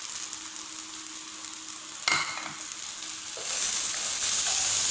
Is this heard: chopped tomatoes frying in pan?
yes